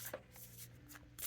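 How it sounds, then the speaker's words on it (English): A deck of Gateway of Light oracle cards is shuffled in the hands with soft, quick riffling and brushing sounds, close by and quiet, in a brief burst with no talk. "I'm going to go ahead and get it out and be shuffling."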